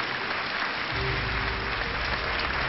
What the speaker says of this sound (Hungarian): Tapsoljuk meg őket.